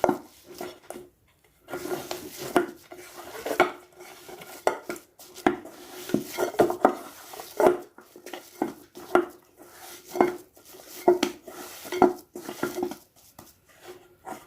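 Green pea fritter batter is stirred in a bowl, the spoon scraping and knocking against the sides in a steady, uneven rhythm of close, distinct strokes with short pauses between.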